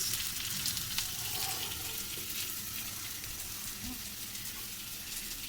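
Fish frying in a pan, salted and coated with turmeric and chili, giving a steady, close, broadband sizzle that holds evenly throughout with faint kitchen clatter underneath.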